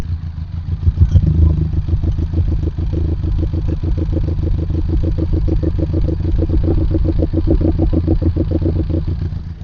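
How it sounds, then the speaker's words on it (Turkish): A Benelli TRK 502X motorcycle exhaust rumbles steadily nearby, loud and throaty, with a fast, even pulsing beat and no talking. "İşte egzozumuz bu şekilde."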